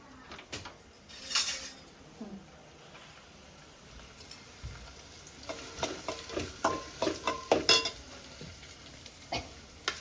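Onion frying in oil as a tempering base for an eggplant, drumstick and potato dish, soft crackling sizzle with intermittent spoon scrapes and stirring clinks against the pan, fairly quiet and close.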